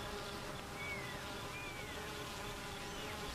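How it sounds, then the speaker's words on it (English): Honey bees buzzing at the hive, a steady dense insect drone with a few individual bees whining past up close, no voices. "They even fan the hive with their wings to keep it cool on a hot summer day."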